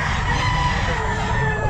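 A nine-month-old Raptor sweater gamefowl rooster at the Bocaue pet market crows in a sustained, harmonic-rich call, loud and close, over a busy market murmur.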